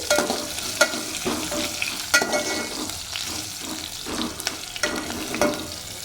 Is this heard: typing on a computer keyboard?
no